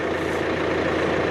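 Near and loud, the engine of a New Holland T5 tractor runs at a steady rumble, with no breaks and no voices over it.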